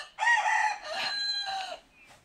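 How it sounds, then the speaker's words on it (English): A rooster crows nearby, loud and clear, in one drawn-out call broken into several strained, ringing segments that fade at the end. "What does the rooster say?"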